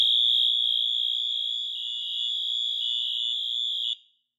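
A piercing, high-pitched electronic smoke detector alarm, set off by sprayed test smoke, sounds continuously for about four seconds, then cuts off abruptly.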